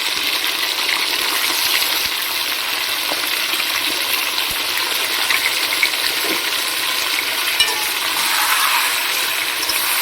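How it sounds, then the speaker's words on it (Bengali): Steady, dense sizzling of chicken frying in hot oil on high flame, a continuous crackling hiss with occasional soft stirring taps, no voices. "একদম হাই ফ্লেমে চিকেনটা কিন্তু ভাজবে"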